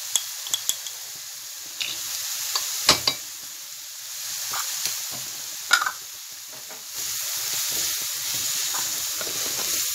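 Onions fry in a pan with salt, black pepper and seven-spice seasoning, giving a steady soft sizzle broken by sharp scraping clicks of stirring.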